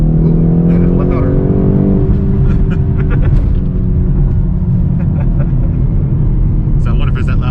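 A BMW X5 M's engine revs loudly from inside the cabin, a steady heavy roar and rumble rising in pitch, with people talking over it.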